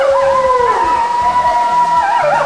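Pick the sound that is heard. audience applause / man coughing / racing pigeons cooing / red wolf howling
red wolf howling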